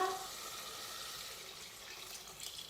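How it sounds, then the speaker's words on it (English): Hot water and beef stock pour into a pot in a steady close stream, a continuous watery rush like a running tap with light sizzle underneath. "And then into that we're going in with some good quality beef stock, hot water"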